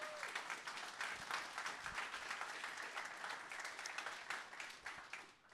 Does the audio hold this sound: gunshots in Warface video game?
no